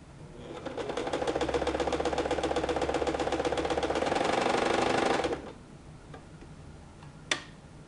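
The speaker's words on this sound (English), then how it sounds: "Run this through my sewing machine." Sewing machine stitching fabric for a skirt and tube top, a rapid close ticking needle rhythm for about five seconds before stopping, followed by quiet with one faint click.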